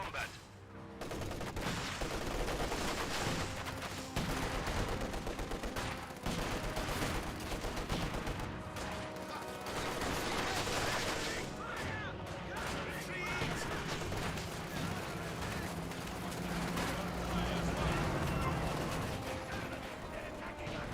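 Sustained MG34 machine gun fire with incendiary rounds in the World War II strategy game Company of Heroes 2, a dense, continuous battle din of rapid bursts and other weapons, loud throughout with a voice talking over it.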